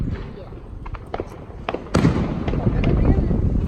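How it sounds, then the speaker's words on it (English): Fourth of July fireworks go off outdoors nearby with a series of sharp cracks and pops, the biggest bang near the middle followed by crackling rumble, while people talk and shout. "Firework number 4 that they're gonna light."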